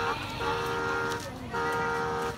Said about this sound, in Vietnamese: Có ai đâu mà bóp còi hả con?